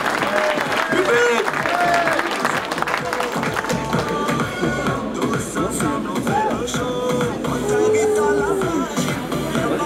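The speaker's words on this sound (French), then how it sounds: "les applaudissements du public" Crowd applause at an SSV off-road rally podium ceremony, steady and loud clapping mixed with a PA announcer's voice and crowd murmur running underneath.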